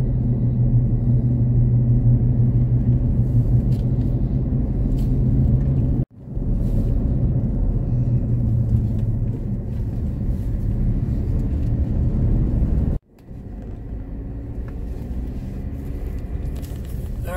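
A vehicle driving a rough section of the Trans America Trail gives a steady, loud low rumble, with two brief dropouts where the sound cuts out.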